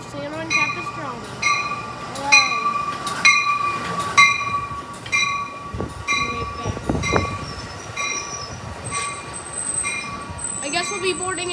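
Amtrak 765 rolls into San Juan Capistrano station with repeated ringing bell tones and rumbling wheels, heard close by and fairly loud throughout.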